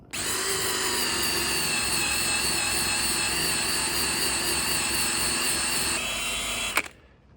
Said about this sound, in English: The eraser wheel is a 10 out of 10.